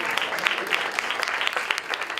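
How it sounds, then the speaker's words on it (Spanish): Audience welcoming a speaker to a talk with applause, dense rapid clapping from a crowd filling the room at steady volume. "Lo recibimos con un fuerte aplauso."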